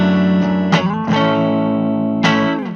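Sustained electric guitar chords played through a Walrus Fundamental delay pedal, with short repeats trailing each strum behind the sound, a distorted, effects-heavy tone with a couple of sharp new attacks over ringing notes.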